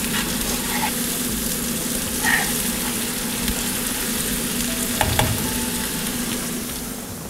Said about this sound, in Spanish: Esperamos aproximadamente unos 2 minuticos que se sofríe más la cebolla y el pimentón